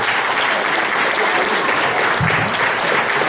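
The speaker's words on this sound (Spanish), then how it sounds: "Un fuerte aplauso para todas ustedes." Sustained crowd applause at a Women's Day ceremony honoring Peruvian women in a district celebration, dense and steady throughout with no pauses.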